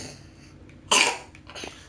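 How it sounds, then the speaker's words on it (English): A single sharp cough rings out close by in a quiet room, followed by a softer faint sound afterward. "Are you getting Mummy's cough?"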